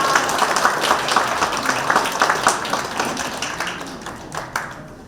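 Applause rises for a Nonsan city council member at a political book launch event, a dense crowd of clapping held steady at moderate distance before tapering off.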